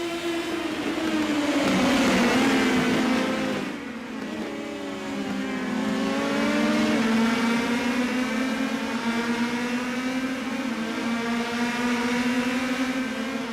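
USF Pro race car engines in the iRacing simulation at Barber whine loudly and close, rising and falling with each gear change, with a brief dip in revs partway through, no voices.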